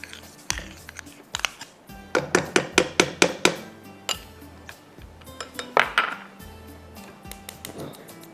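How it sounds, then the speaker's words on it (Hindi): Semolina being roasted in ghee in a pot for suji and gur halwa, heard as loud clinks and scrapes from a metal spoon striking the pot in quick bursts, with quieter stirring between. "घी के अंदर सूजी को भूनेंगे"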